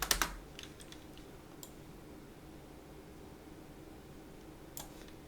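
Keyboard shortcut presses while working in graphics software on a poster design: a quick cluster of close, crisp key clicks at the start, then near-silence with faint hiss, and one more soft click near the end.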